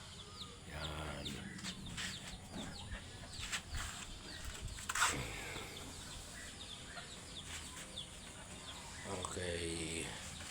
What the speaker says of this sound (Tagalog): Lapitan agad yung mga manok ko.